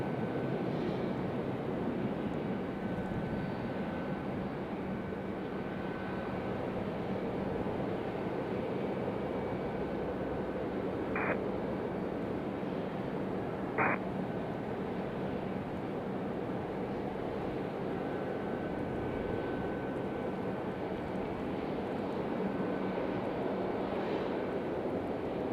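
An Embraer E175 regional jet arrives at Raleigh-Durham from Nashville. Its engines are a faint, distant, steady drone with a thin whine and two brief sharp tones partway through.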